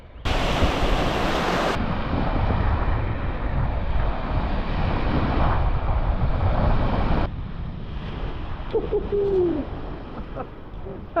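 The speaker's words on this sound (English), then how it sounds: "It's that wind coming in" Cold wind gusts in off the sea along the Scottish coast, roaring steadily against the microphone over a wash of surf, easing somewhat toward the end, where a faint call briefly rises above it.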